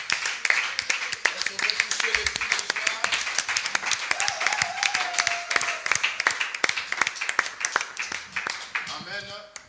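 A church congregation applauding in praise, dense continuous clapping from many hands with voices calling out over it, sustained throughout.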